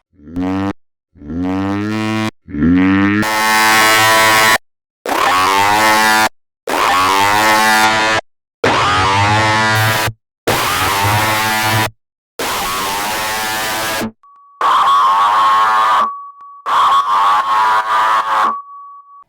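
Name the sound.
stretched vocal sample with heavy effects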